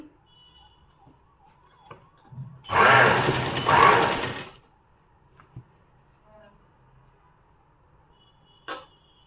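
A sewing machine runs a straight stitch through cotton lining cloth in one loud, close burst of about two seconds. Quiet room noise comes before and after it, with a few faint clicks.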